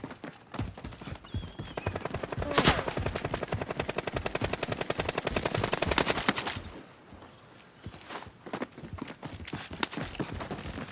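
Rapid automatic gunfire from a Call of Duty: Modern Warfare match rattles in a dense, sustained burst for several seconds, with sharp cracks on top, then drops to scattered single shots and game noise.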